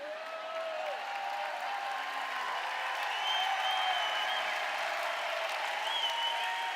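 An audience applauds a speaker at a talk, a continuous, even wash of clapping heard at a distance and holding a steady level, with faint tonal sounds drifting through it.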